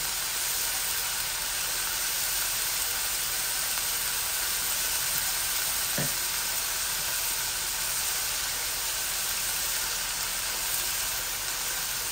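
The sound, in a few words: onions frying in oil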